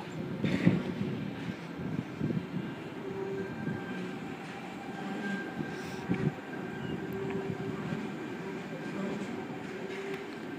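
A train rumbles steadily alongside a platform at Hornsby station, with low rolling wheel noise and faint metallic hums, moderately distant and continuous.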